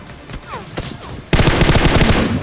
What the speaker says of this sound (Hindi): अब एक बंदा पता नहीं हम पे पिस्टल से क्यों फायर कर रहा था